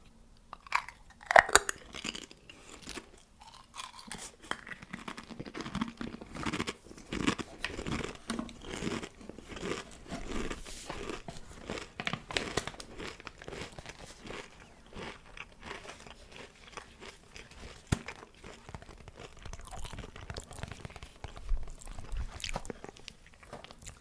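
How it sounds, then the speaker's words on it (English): Pringles Originals crisps eaten close to the mic, with steady crisp crunching and biting plus some crinkling from handling, continuing softly throughout with no talking. "who'd have thought I'd be sat here making an ASMR video for you all eating Pringles"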